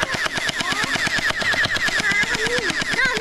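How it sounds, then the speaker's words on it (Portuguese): A toy gun fires in a rapid, steady automatic burst, loud and close, with electronic whirring tones running through the rattling shots. "Pode dar um tiro na perna?"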